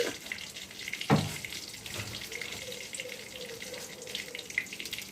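Cumin seeds sizzle softly in hot oil left over from frying fritters, a steady hiss with a single clink early on.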